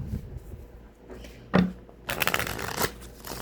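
Tarot cards are shuffled close by in quick riffling bursts, with a sharp snap partway through, fairly quiet overall.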